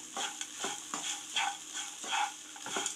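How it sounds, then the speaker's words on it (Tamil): Curry leaf rice being stirred in a pan just after the stove is turned off, a soft sizzling bed under about half a dozen evenly spaced scraping strokes of a spoon, close and fairly quiet. "இப்போ இதை நம்ம கிளறி விட்டுக்கலாம்."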